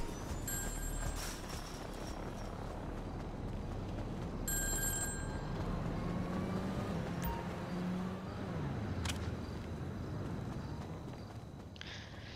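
A phone rings in GTA Online, two faint short ringing bursts over steady in-game background noise.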